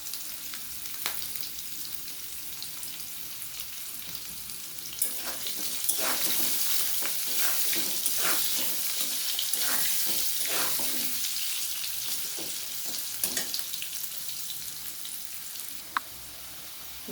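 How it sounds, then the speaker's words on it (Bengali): Potatoes fry in oil until reddish, a continuous close hiss with a run of scraping stirs and clatter in the middle stretch, then settling back to an even sizzle. "এই তেলের মধ্যে দিয়ে বেশ ভালো করে লালচে করে ভেজে নেব।"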